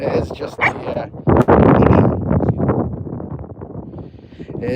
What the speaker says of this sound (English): Sorry it's a bit windy again